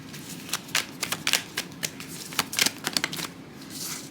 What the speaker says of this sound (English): So I'm just gonna lay the cards out right now, in just a regular 9-card format for right now.